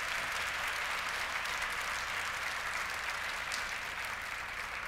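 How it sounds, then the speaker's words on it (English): A large plenary session audience applauds to welcome Dr. Heinz Fischer, former President of Austria, with dense, steady applause held at an even level throughout, somewhat distant. "Please welcome him with a big applause."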